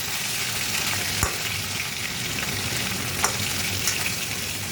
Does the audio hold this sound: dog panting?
no